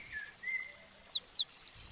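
Sparrow chirping from its nest in a tree: a quick series of bright, high tweets in a steady rhythm, close and clear against near silence.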